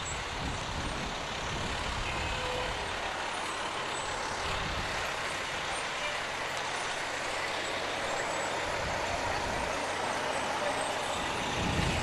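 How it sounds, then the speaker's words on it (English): Volunteer fire rescue trucks roll past in a Toronto Christmas parade, a steady broadband rumble of heavy engines and road noise with occasional air-brake hiss, continuous and fairly loud throughout. "volunteer fire rescue trucks now coming in to the screen area as they're going down"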